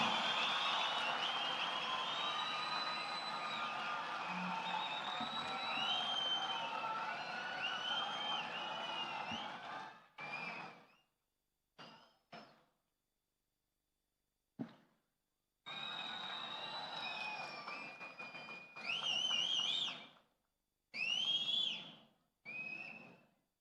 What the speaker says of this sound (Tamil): ஒரு அரங்கன் நிறைந்த கைத்தட்டல் நமது குழந்தைகளுக்கும் வெற்றி தலைவருக்கும்